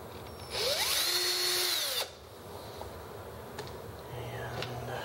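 A power drill whirs up in a loud burst for about a second and a half and then stops, followed by quieter handling noises and a faint voice.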